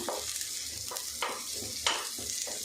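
Onions fry in a pan on a stove with a steady soft sizzle, broken by a few scraping stirs of a spoon, quiet and close.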